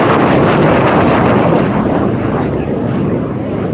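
MiG-17F fighter jet passing at the Dover AFB air show, a loud, broad roaring rush of jet noise with wind buffeting, steady and fading slightly toward the end.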